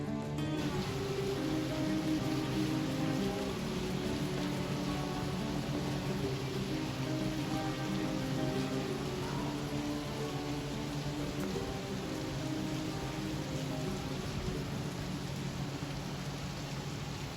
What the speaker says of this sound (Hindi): पर बहुत तेज़ बारिश है, ठंड वंड ना लग जाए, क्योंकि ठंडी बारिश है ये बहुत